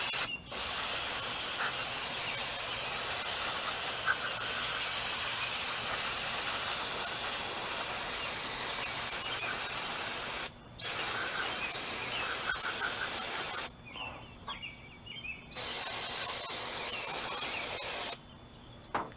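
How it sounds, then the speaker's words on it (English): Carburetor cleaner sprays from an aerosol can onto a Tecumseh 6.5 Toro mower carburetor in long, steady hissing bursts separated by brief pauses, fairly close. "I'm gonna spray this thing down real quick. I got a better can of carburetor cleaner"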